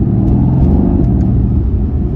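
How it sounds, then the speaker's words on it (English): A Mercedes-AMG GT R Pro in Sport Plus mode gives a deep, steady engine growl with a low rumbling exhaust, loud and continuous throughout, no voices. "Let me see if I can turn up the exhaust a bit"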